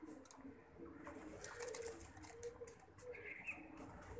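Pigeons coo softly in a basement loft where paired birds are kept, low murmuring calls repeating in the background with faint chirps and room noise throughout.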